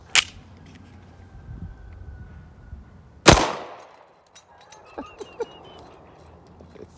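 Two sharp, loud pistol shots from a Smith & Wesson Shield EZ 9mm fired at a range, one right at the start and a stronger one about three seconds later, each ringing briefly before fading into quiet background with small clinks.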